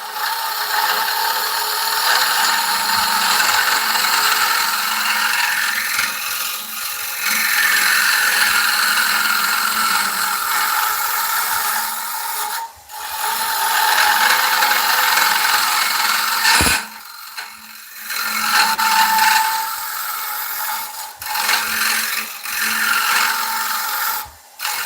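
A spalted beech bowl spins on a wood lathe at about 831 rpm while a carbide tool cuts into it, giving a loud, steady scraping hiss with brief gaps and a sharp knock partway through, with no talking.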